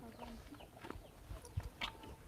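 A chicken clucks close by in short, scattered bursts at low volume, with a few soft thumps and background rustle.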